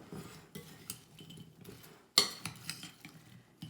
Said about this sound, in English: I'm going to just dump some pesto on it and stir it up